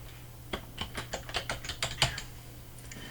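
Typing on a computer keyboard to enter a name as text in a Cricut design program: a quick run of roughly a dozen close, crisp key clicks over a faint steady hum, with no talk.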